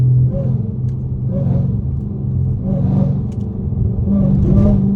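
Dodge Charger Hellcat with supercharger whine over a loud, rumbling exhaust, heard close from inside the car: a steady low growl that swells in repeated revving surges, with a faint high whine riding on top.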